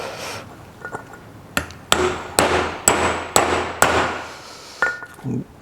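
Sharp metallic taps, about seven hits in a steady rhythm, as a needle roller bearing is driven into its race with a socket on a 1968 Triumph Vitesse; close and fairly loud, with no talking.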